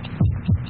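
Heartbeat sound effect from a 1948 Bufferin commercial: two deep, muffled thumps in a quick steady rhythm, low and close, with no voice over them.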